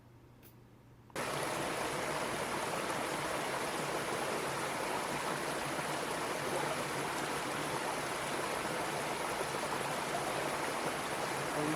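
Mountain creek flowing beside a Forest Service road in the North Carolina high country, a steady broadband rush of water that starts abruptly after a quiet second and continues unbroken and close.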